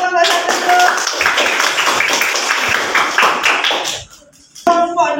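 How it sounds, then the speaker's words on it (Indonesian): A class of teacher trainees claps for a group that has just presented its cooking work, a close, lively round of hand clapping that stops abruptly before a voice resumes. "Tepuk tangan untuk kelompok 1 dulu."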